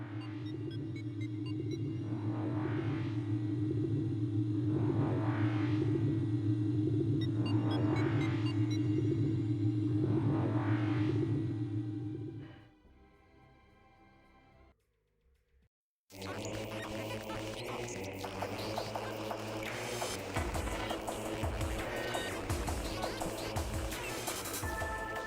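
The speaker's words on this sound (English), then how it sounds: "the only thing accompanying you is the sound of electronics operating the elevator" Electronic elevator machinery in Metroid Prime hums steadily with a rhythmic, pulsing swell, drops to a faint lull and near silence, then resumes as a dense mechanical drone.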